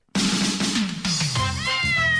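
Loud, close cat meows used as a radio-segment sound effect, a couple of drawn-out mewing cries filling the whole moment with no talking.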